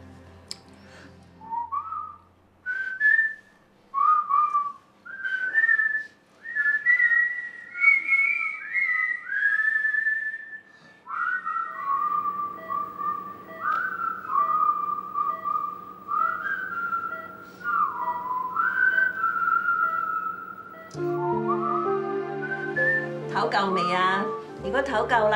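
A person whistles a tune in a Hong Kong TV drama scene, a clear melody of short rising and falling phrases carried steadily for over twenty seconds, close and loud, ending in a brief louder flourish.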